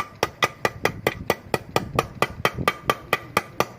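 A hammer strikes repeatedly while driving a bearing into an opened Yamaha Touch 126 motorcycle engine, about fifteen sharp metallic blows at a steady, quick rhythm, close and loud.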